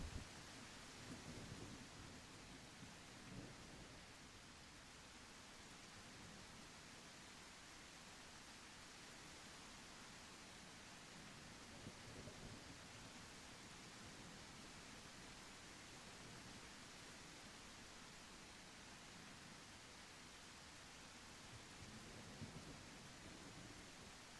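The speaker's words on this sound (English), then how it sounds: "it's apparently gonna rain all the time" Steady rain hisses throughout in The Isle Evrima dinosaur survival game, a constant, fairly faint wash of noise with low thunder rumbles swelling now and then, and no voices.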